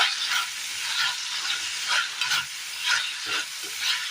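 Fish pieces for a Kerala-style curry cook in a pan, giving a soft, even sizzle with gentle periodic stirring swells, moderately quiet and close, no one speaking.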